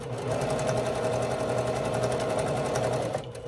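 A sewing machine runs steadily at close range, its fast even stitching chatter continuous for about three seconds as quilt seams made from bandanas are sewn, then stopping abruptly.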